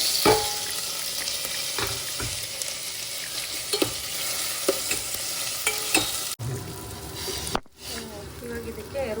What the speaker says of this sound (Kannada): ಸೊ ನಾನು ಸಾಸಿವೆ ಕರಿಬೇವು ಹಸಿಮೆಣಸಿನ್ಕಾಯಿ ಮತ್ತು ಈರುಳ್ಳಿ ಹಾಕಿದ್ದೀನಿ